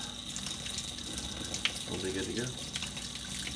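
Tap water runs steadily into a tub or sink while a dog's bath is prepared, a soft continuous rushing and splashing beneath a person speaking quietly nearby.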